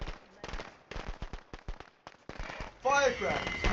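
Firecrackers pop in a rapid crackling string of sharp bangs, then a denser burst of crackles, heard amid gameplay sound.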